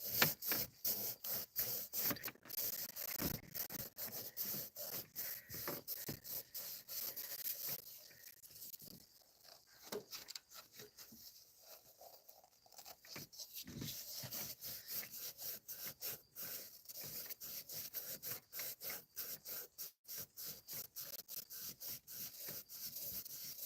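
Rhythmic scrubbing of a cylinder head's mating surface with a Scotch-Brite pad and WD-40, steady close rasping strokes that pause briefly midway before resuming.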